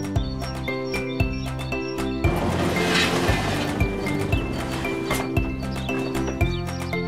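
A cartoon horse clip-clops in a steady, rhythmic gait of hollow hoof knocks, with a whinny in the middle, all under bright musical accompaniment that runs throughout.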